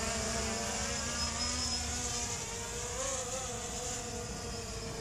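A Hubsan H109s drone fitted with Master Airscrew propellers descends, its buzzing rotor whine steady and fairly faint, wavering slightly in pitch as it drops.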